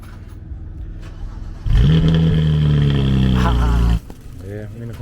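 BMW 335i fitted with VRSF downpipes fires up with a loud burst and settles into a deep, steady roar, revving briefly before cutting off, with voices talking before and after.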